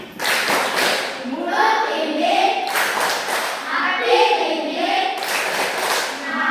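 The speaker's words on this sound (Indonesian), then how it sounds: "Kita berikan sekali lagi tepuk terima kasih kepada kelompok 2." A classroom of children gives a patterned thank-you clap for a presenting group, a few rhythmic bursts of hand claps with children's voices chanting along over it.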